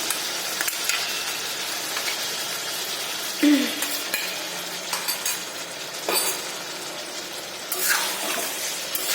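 Water runs and splashes as a mixer bowl is rinsed and poured into a pan of cooking chicken in lemon butter sauce, with faint sizzling underneath and a few clinks, moderately close, no talking.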